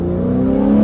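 A Porsche 997.1 Carrera with a 4.3-liter engine pulls in second gear from 2,500 RPM, a loud, steady droning engine note that builds slightly in under a second, heard from inside the car.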